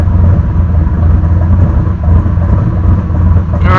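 A car engine idles steadily right after its first startup following a Stinger Performance Pimp XS install and idle tuning, a loud, constant low rumble holding even RPM throughout with a faint rising whir near the end.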